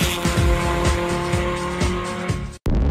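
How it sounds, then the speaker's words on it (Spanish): A hot rod fitted with a MagnaFlow performance exhaust roars loudly and continuously, its engine note pulsing with repeated throttle surges and tire squeal, then cuts off abruptly near the end. "MagnaFlow Performance Exhaust gives me that perfect sound"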